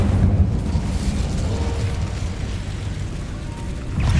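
A fire spell being cast in the Hogwarts Legacy video game gives a sustained low rumbling roar with a burst at the start and another swell near the end, loud and steady throughout.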